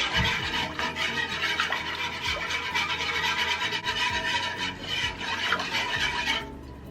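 A small whisk scrapes steadily around a pan while smothered pork chop gravy is being cooked, a continuous close rasping stir that runs unbroken for several seconds with no talking.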